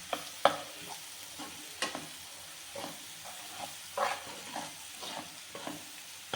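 Chicken frying in a pan with fenugreek leaves just added, stirred in quiet bursts of scraping and soft sizzle, close and fairly faint, with no talking.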